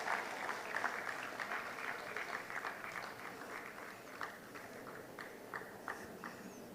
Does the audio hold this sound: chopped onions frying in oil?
no